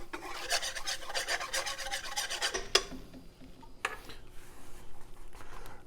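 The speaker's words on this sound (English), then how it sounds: "we're going to whisk in 1/4 cup of flour" A whisk scrapes rhythmically through flour and melted butter as a roux is made, giving quick raspy strokes for about three seconds and then a few scattered scrapes.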